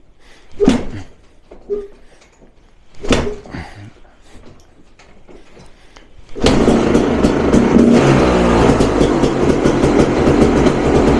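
A 360cc two-stroke motorcycle engine is kicked over twice with brief bursts, then fires up and settles into a loud, steady, crackling idle that runs close to the end.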